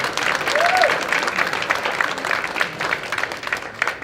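An audience at the Rancho Mirage Writers Festival applauds to welcome a speaker, dense sustained clapping from a crowd that holds steady for several seconds.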